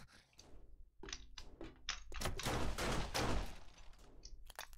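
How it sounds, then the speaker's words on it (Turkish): Bursts of rapid gunfire in the video game 7 Days To Die crackle and pop through the clip, with scattered single shots before and after a dense volley in the middle. "Bak silah sesleri falan geliyor ya"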